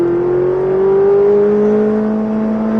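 A Ferrari accelerates steadily on a race track during a driving course, its engine note rising smoothly and loud from close by inside the car.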